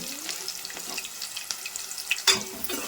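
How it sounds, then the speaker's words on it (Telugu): Onions frying in a pan for cabbage kurma, with a close, crackling sizzle broken by stirring scrapes and a sharper clatter near the end, and no talk. "ఇప్పుడు ఆనియన్స్ వేసుకొని ఫ్రై చేసుకోవాలి పచ్చివాసన పోయేంతసేపు వరకు ఫ్రై చేసుకుంటూ ఉండాలి"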